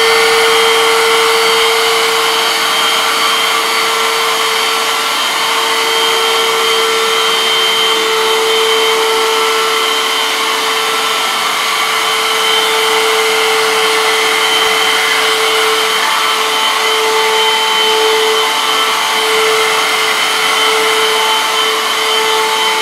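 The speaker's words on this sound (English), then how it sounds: "switching to pick up and using the squeegee and the suction to remove" A Vax Floormate wet floor cleaner in pick-up mode pulls water up through its squeegee, a loud steady motor whine with a constant tonal hum that runs unbroken, close and alone.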